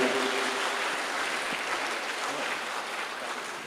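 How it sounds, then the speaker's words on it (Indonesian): Steady audience applause fills the hall after a public seminar on the history of HKBP health services, a dense wash of many hands clapping at moderate loudness, continuous and fading only slightly toward the end. "Kita berikan tepuk tangan yang paling meriah."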